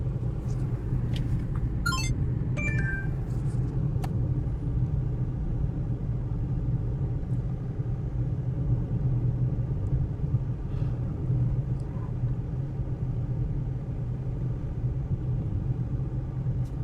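A car coasting in neutral on the Ganga Expressway, heard from inside as a steady low road rumble and tyre drone with no engine pull, constant and close throughout, with a few faint clicks early on.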